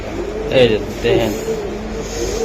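Two soft, low coos from racing pigeons nearby, rising and falling, over a steady background hum.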